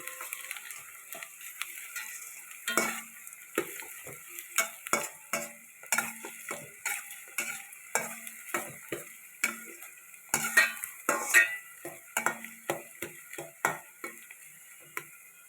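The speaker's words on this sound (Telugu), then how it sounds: "మటన్ కర్రీకి ఉల్లిపాయలు పచ్చిమిరపకాయలు వేసుకుంటున్నాను." Onions and green chillies frying for a mutton curry, with a steady soft sizzle under repeated stirring scrapes and spoon clinks against the pan, close and moderately loud, with no talk.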